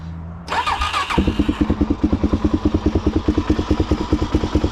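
A Suzuki DRZ400 motorcycle engine, just repaired at its countershaft seal, cranks and catches, then settles into a loud, close, steady idle with an even rhythmic thumping pulse.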